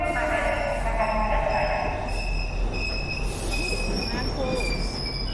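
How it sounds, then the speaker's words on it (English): A train in the horror game The Ghost Train by Chilla's Art rolls in with loud, sustained metallic wheel squeal and rumbling rail noise over about five seconds, with no speech. "You think Chilla Art's gonna let me get hit by a train in his game?"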